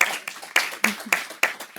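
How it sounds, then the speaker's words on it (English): A round of applause at a quarterly staff awards event is heard as sparse hand claps, about six of them, spaced evenly at roughly a quarter-second apart. It sounds like a small number of people clapping close by rather than a large crowd. "let's give her a round of applause."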